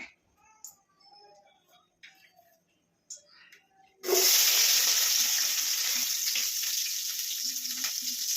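After a few quiet clinks in a pan, onions drop into hot oil and a loud, bright sizzle bursts up all at once, then keeps hissing steadily at close range.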